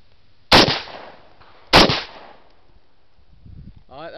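Two loud, sharp 5.56 rifle shots from a Colt 6920 carbine, about a second apart, each with a brief ringing decay, followed by quiet and a short voice at the end.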